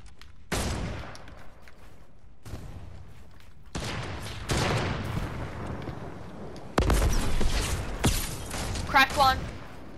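Flintlock and other gunfire in a video game: loud bursts and booming shots in several clusters over continuous in-game noise, with a voice talking over it.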